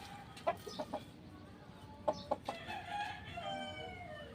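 A fighting rooster at a cockfight crows and clucks in sharp bursts, with a long crow trailing over steady crowd background noise, close and fairly loud.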